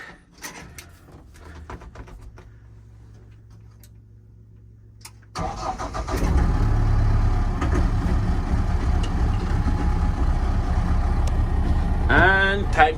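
A Mahindra ROXOR off-road vehicle's engine cranks and catches partway through, then settles into a steady, loud, close idle with a deep rumble.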